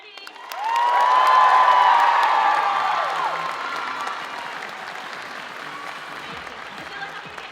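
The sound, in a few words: audience applause and cheering for a cosplayer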